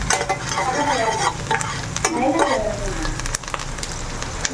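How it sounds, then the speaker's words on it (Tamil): Onions sautéing in a pan on a home stove, a steady loud sizzle broken by the scrape and clatter of stirring, with a voice speaking faintly at times. "ரெண்டுலேயுமே வெங்காயம் வதங்கட்டும்."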